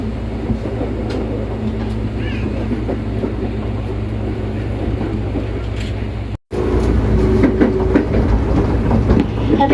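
Inside a commuter train heading toward Cibinong station, a steady rumbling ride with wheel clatter and a low hum, loud and close, briefly cutting out before the noise resumes.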